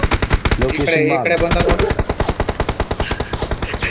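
Shotgun fire in a video game: a rapid, steady string of loud gunshots runs throughout, with a player's voice talking over it.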